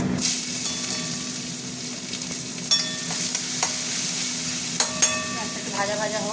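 Onion frying in a pan with bay leaf, dried chilli and cumin, a continuous loud sizzle broken by occasional scraping strokes of a spoon against the pan.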